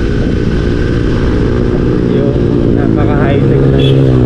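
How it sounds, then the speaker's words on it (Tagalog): A KTM Duke 390 motorcycle engine drones steadily while riding on a road near Kaybiang Tunnel in Ternate, Cavite, loud and close with constant wind rush and a slight rise in pitch toward the end, with someone talking over it. "motor ng KTM, no? Duke 390."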